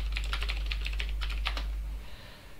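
Keystrokes on a computer keyboard as a password is typed, a quick run of close, crisp clicks for about two seconds over a steady low hum, then stopping.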